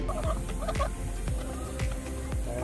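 Chickens fed scorpions give repeated throaty clucks and gobbling calls, several birds close by, with a steady background hum throughout.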